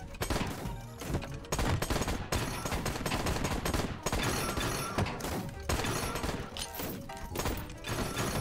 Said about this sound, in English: Oh, they have a machine gun turret thing.